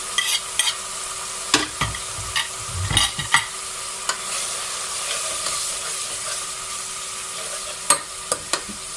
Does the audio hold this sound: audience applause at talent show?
no